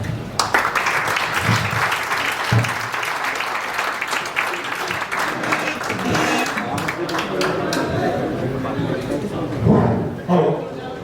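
Audience applause after a talk at an insurance awareness seminar, dense clapping filling the hall for around ten seconds, with voices heard through it.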